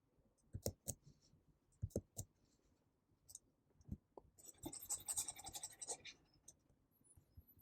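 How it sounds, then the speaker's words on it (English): Pen scratching and tapping on paper while a circle is sketched for a radian and steradian geometry lesson, with short clicks early on, then a denser stretch of scratchy strokes, close and faint. "So let me draw a circle."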